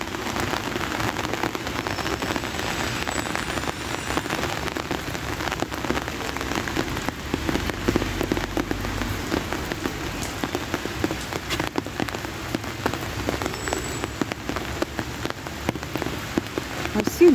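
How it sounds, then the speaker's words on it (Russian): Steady rain patters on surfaces nearby, a continuous dense spatter of drops with occasional louder splashes. "Дождик все поливает."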